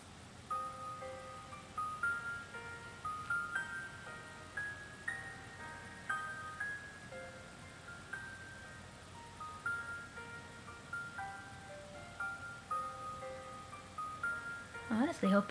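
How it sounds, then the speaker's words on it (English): Faint piano refrain from the Homestuck game soundtrack plays softly, a simple repeating melody of single notes, quiet and distant with a louder rustle at the end. "Let's play that piano refrain."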